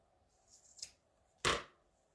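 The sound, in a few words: trimming with scissors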